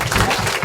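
An audience breaks into loud, dense applause, a brief burst of many hands clapping at once, close and full.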